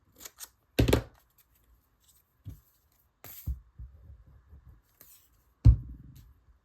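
Scissors snip a tiny strip from paper scraps at a crafting table, close and fairly quiet: a few sharp isolated cuts with soft rustling and handling noises between them, no talking.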